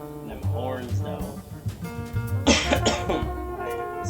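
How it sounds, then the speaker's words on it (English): A man coughs several times in a room, the harsh bursts landing near the middle of the clip over jazz music with horns and game audio. "This cough still, man."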